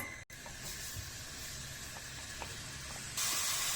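Steady sizzling hiss of minced meat frying in a pot, with a brief dropout and the hiss growing brighter near the end.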